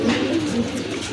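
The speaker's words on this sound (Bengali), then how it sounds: "খুবই চমৎকার এক জোড়া কবুতর" A pair of pigeons in a pigeon seller's collection coo in low, throaty murmurs that run steadily through the whole moment, close and fairly loud, with no talk over them.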